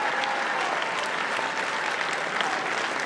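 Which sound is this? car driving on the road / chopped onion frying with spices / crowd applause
crowd applause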